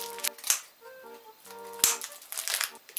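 Plastic packaging around a paint tray and roller being torn and crinkled open, a few sharp crackling rips with quiet pauses between, close and alone.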